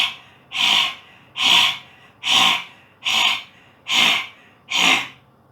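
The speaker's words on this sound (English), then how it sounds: "the same way I'll do active breathing" Active yoga breathing kriya with the tongue rolled back against the roof of the mouth and lips slightly open: six strong, evenly spaced breathy rushes close to the mic, each separated by a short quiet pause.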